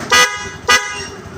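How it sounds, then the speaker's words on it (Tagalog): A Bosch electric horn fitted to a motorcycle honks twice, with two short, loud, bright blasts about half a second apart, close to the listener. "Pakinggan nyo po mga kaibigan ang busina natin na ikabit."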